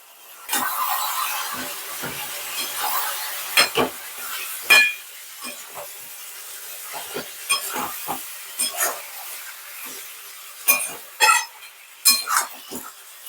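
Mutton being fried and stirred with cumin and chili powder in a pan for mutton curry, giving a soft steady hiss and sizzle broken by repeated scraping and clanking of the spoon against the pot.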